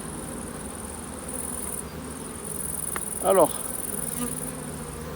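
Honeybees hum at a group of twelve beehives, a steady nearby drone that holds throughout, with someone speaking French briefly over it.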